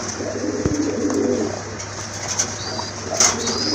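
A male fancy pigeon with a crested head coos steadily in a loft, low and close, with soft rustling and faint background noise and no talking.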